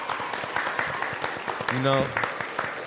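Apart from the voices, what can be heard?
audience applause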